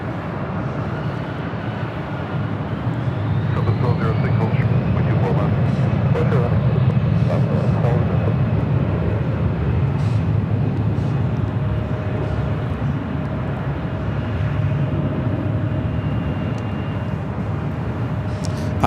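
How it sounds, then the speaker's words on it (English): An Airbus A380 taxiing and turning onto a taxiway at Los Angeles airport gives a steady, continuous roar of jet engines with a faint whining tone, holding a fairly constant level throughout. "A380 now making that turn onto taxiway Kilo."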